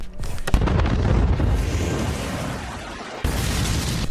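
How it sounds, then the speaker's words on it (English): A loud explosion sound effect roars for several seconds as a dense, rumbling blast, breaks off for a moment and then surges back. "Oh, the explosion!"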